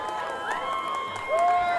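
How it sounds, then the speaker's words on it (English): Wedding guests applauding and cheering steadily at Historic Rosemont Manor in Berryville, Virginia, with a bright whistle rising near the end over the clapping. "A big round of applause, please."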